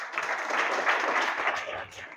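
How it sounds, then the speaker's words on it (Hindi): Classroom students at a coaching centre clapping for the class topper, a brief, moderately soft burst of many hands, steady throughout with a little voice mixed in. "इनके लिए जोरदार ताली एक बार।"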